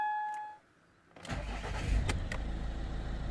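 A Ford 2.0 TDCI diesel car with a random shutting-down fault cranks briefly after a short pause and catches straight away, settling into a steady, close idle.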